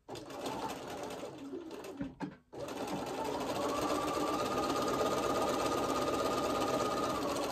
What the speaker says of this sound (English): I'm sewing on my Bernina, and it sounds to me like it needs oil